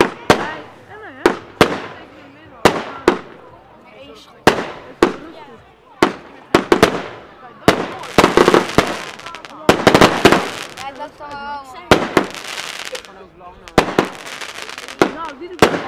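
Fireworks display with fan-shaped effects, a Cafferata show, sends a rapid series of sharp launches and bursts, some in quick pairs, with crackling tails, loud and fairly near, while people talk between shots.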